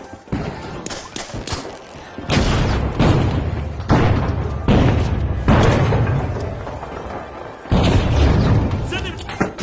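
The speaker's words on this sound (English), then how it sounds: "Outgoing gas grenade." A gas grenade is thrown in the shooter game The Finals, landing among repeated loud booming thuds and bursts of gunfire, with voices talking throughout.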